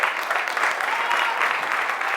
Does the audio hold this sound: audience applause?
yes